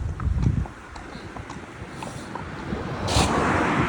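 Horse hooves clip-clop on a paved main road while out hacking, a few faint irregular steps under steady wind noise and passing traffic.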